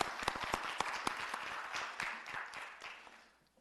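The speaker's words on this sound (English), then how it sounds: "Yes, clap for that." An audience at a business forum applauds, a burst of many hands clapping with a few sharp claps standing out, fading over about three seconds.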